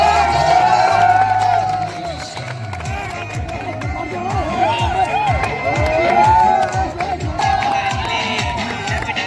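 At a class 12 farewell party, a crowd of students cheers and shouts as a teacher is welcomed, a continuous loud roar of young voices with scattered claps throughout.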